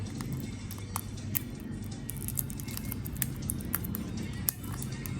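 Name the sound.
rain falling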